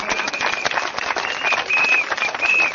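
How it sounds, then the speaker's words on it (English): An audience at a West Coast GRC election rally in Singapore claps steadily and densely, a sustained wash of applause with a faint tonal whistle or feedback rising briefly over it. "give them your applause"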